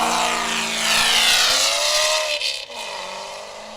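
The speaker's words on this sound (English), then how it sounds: "when they get down the road a little bit, they open up the exhaust." A Corvette at the Sandhills Open Road Challenge opens up its exhaust on the road: a loud, sustained engine roar that swells and then shifts in pitch as the car passes, with no talking.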